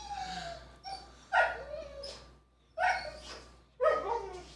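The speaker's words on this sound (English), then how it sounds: "It's a excited dog." An excited dog whimpering, yipping and barking in short bursts with brief pauses between them, close and moderately loud, with no talking.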